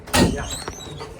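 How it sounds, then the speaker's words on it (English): A cabinet door on an aluminum extrusion cart opens with a brief knock and rattle, followed by a couple of faint clicks, close by and without talk. "And Open that door."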